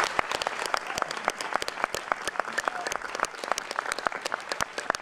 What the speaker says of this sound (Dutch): En tenslotte wil ik nog een groot applaus voor deze geweldige muzikanten Thijs Elsinga en Oscar Jan Hofland.